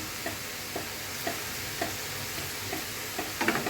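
Onion scapes frying in a pan with salt and turmeric, a steady soft sizzle under regular light scrapes of stirring, a little busier near the end.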